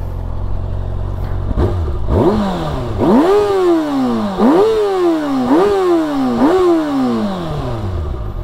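A Kawasaki ZX-6R motorcycle engine revs hard several times in a row, each rev rising sharply then dropping back to a rough idle, close and loud.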